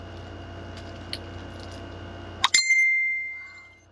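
A cellphone sounds a single bright notification ding, short and clear after a faint hum, and the tone rings out and fades over about a second.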